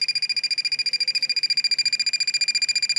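Rapid, steady electronic beeping repeats without pause, a shrill high-pitched pulse close by from a 1993 Power Rangers Dragonzord toy chirping on and on.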